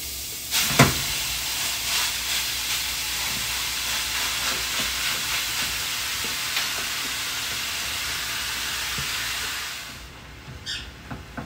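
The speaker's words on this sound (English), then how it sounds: "take my ground beef and put it into the pan. I'm gonna let it cook" Ground beef sizzling in a hot pan as it cooks for a plantain lasagna: a loud, steady frying hiss, close up, with a brief clatter near the start, tailing off near the end.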